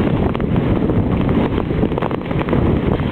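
Strong wind during a snowstorm walk buffets the microphone in a loud, continuous roaring rush with gusty fluctuations, filling the whole moment without voices.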